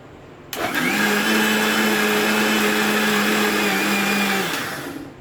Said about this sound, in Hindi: तो अब हम देखते हैं, ग्राइंड हो गई है हमारी चटनी।